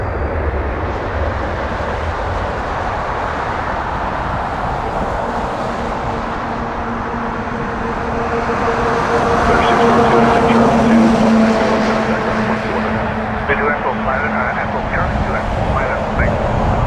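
A Boeing 777-300 airliner at Toronto Pearson airport produces a sustained, loud engine roar and rumble that swells in the middle, with a person talking beneath it.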